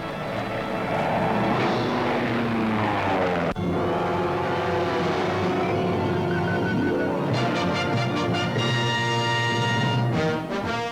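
Engines of 1943 US 14th Air Force military planes drone loudly and steadily, rising and falling as the planes pass overhead, with no voices.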